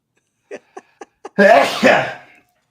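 Four short, quick breaths build up, then one loud sneeze bursts out close by, trailing off into a brief vocal tail.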